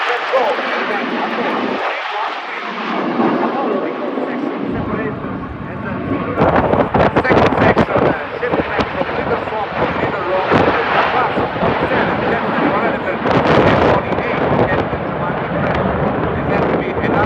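A solo aerobatic aircraft flies inverted at the Quinte West airshow, its engine roaring steadily and growing louder partway through, with wind buffeting the microphone and commentary spoken over it.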